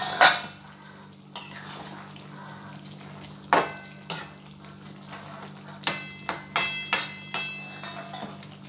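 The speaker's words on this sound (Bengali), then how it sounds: "আমি একটু নেড়ে দিচ্ছি মাঝে।" A spatula stirs okra, potato and egg in a covered pan over low flame, sharp metallic scrapes and clinks landing in irregular bursts against the pan over a faint background hum.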